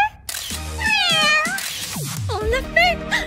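A cartoon character's voice imitates a cat meowing, giving a few playful high, wavering meows amid excited chatter from other animated voices.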